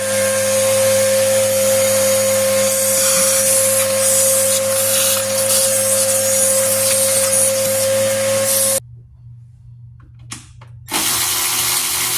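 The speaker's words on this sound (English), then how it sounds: "I don't have a blower, so I'm gonna use the vacuum." A vacuum cleaner cleaning up grit drones steadily at a loud, close range, then cuts off for a couple of seconds before starting up again.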